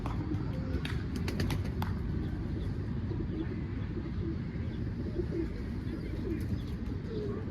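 Low, continuous cooing of pigeons from a nearby coop, with a few brief chirps early on and a faint hum of traffic behind.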